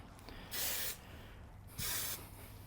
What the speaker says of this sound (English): So I'm going to get some spray glue here.